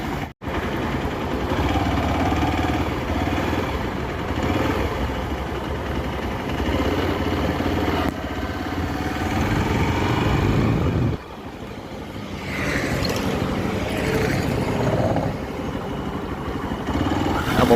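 A Hero Xpulse 200 2V adventure motorcycle being ridden, its engine droning steadily and loud up close, with a brief dip in revs partway through before the drone picks back up.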